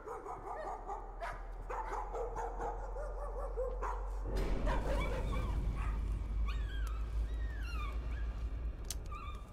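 Dogs bark and whimper in the Layers of Fear video game, a run of yips and growly barks over a constant low rumble of ambience, growing louder and busier in the second half.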